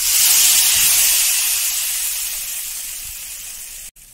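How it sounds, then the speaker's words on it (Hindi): A loud, steady sizzling hiss as hot tempering (tadka) is poured into bathua kadhi, fading gradually over a few seconds before cutting off abruptly. "तड़का हो गया है, मैं इसमें डालूंगी कड़ी में।"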